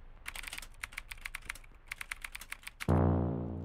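Someone types on a computer keyboard in quick, uneven bursts of crisp clicks with brief pauses, then a sustained droning tone cuts in near the end.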